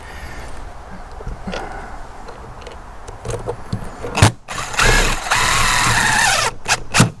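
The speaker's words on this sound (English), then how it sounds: "Because you're going into the plastic with the drill, you don't even need to pre-drill it." Power drill driving a screw into a plastic Scotty 2106B downrigger, first quiet handling and clicks, then a loud whirring motor burst of a couple of seconds with short bursts after it, close up.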